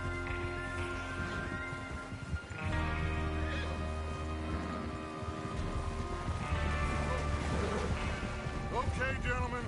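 A horse whinnies amid a busy Red Dead Redemption 2 game soundscape with music and voices talking, followed by further neighing and hoof clatter.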